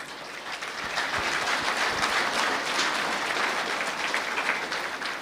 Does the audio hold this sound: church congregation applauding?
yes